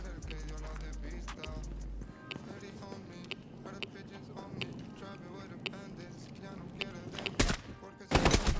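Video game gunfire from a weapon set to single-shot mode cracks out in sharp, scattered single shots over a busy background of game sounds, ending with a couple of louder bursts.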